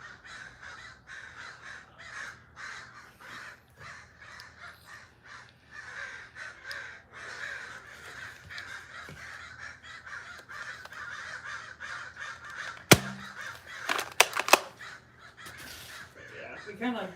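Crows caw repeatedly in an outdoor setting with trees, their harsh calls in rhythmic bursts at moderate distance, while people talk over them and a few louder knocks and rustles sound near the end.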